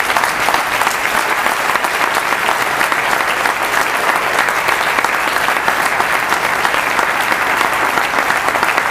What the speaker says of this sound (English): Let's have one last round of applause for all the teams.